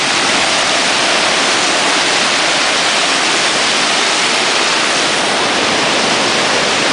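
A loud, constant roar of the Staubbach waterfall in Lauterbrunnen, Switzerland, a long free-falling drop, dense and unbroken, heard up close with no other sounds.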